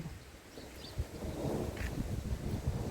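Steady wind after rain blowing across the microphone, a low rumbling rush with soft gusts and faint rustling, no voices.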